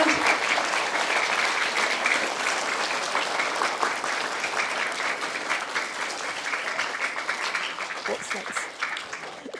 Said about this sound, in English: Shall we give Mrs. Williams a round of applause to accompany that big special card?